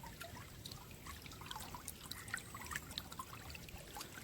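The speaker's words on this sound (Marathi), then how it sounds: "पाण्याला वेग बघा किती त्याच्यामुळे तुम्हाला कळत असेल की पाण्याला प्रेशर वगैरे आहे" Water gushing under pressure from a pipe outlet in the middle of farm fields, a steady, fairly loud splashing and trickling rush heard close by with no talk.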